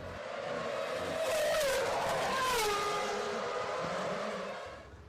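Midland Formula One car on a lap of the bumpy Monaco street circuit: a loud, close engine howl whose pitch climbs and drops through gear changes, sustained throughout with no voices.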